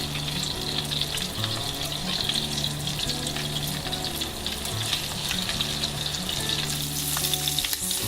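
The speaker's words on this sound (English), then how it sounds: "they need to be in the pan for at least 3 minutes at a very golden brown before you turn them" Crab cakes fry in a pan of hot oil and butter, a dense, steady sizzle and crackle running loud and close for the whole stretch, with faint clinks of utensils beneath.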